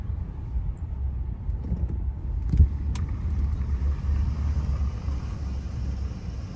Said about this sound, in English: When you're under acceleration at the speed, you can definitely hear that grinding noise.